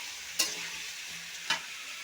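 Pumpkin curry vegetables fry in a pan with a steady high sizzle, broken by two short scraping stir strokes about a second apart; no voices.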